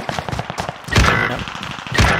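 An MG42 machine gun in Call of Duty: Warzone fires loud, close, rapid bursts, with a fast rattling stream of shots that swells into heavier volleys about halfway through and again at the end.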